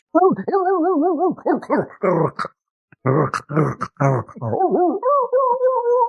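A human voice imitating a dog yelping and whimpering in pain, a run of close, loud, wavering yips and whines broken by short pauses.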